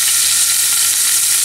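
Garlic fries in olive oil with a loud, dense, even hiss of sizzling, close up and unbroken for a brief moment.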